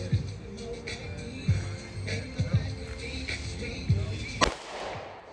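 A single sharp pistol shot cracks loudly near the end, with fainter thumps and background noise before it.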